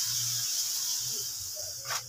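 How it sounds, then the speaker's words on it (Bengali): Cauliflower and carrots fry in a pan for fried rice, making a steady hissing sizzle that swells briefly near the end. "গাজর এগুলো ভাজছি।"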